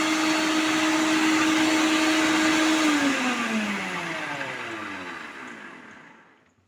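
A mixer grinder crushes ginger with a loud steady whir that dips in pitch and winds down as the motor is switched off and spins to a stop.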